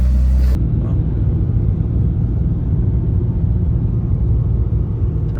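Steady low road rumble of a car cruising along the highway toward Vegas at dusk, a continuous dense engine and tire drone inside the cabin with no breaks and no voices.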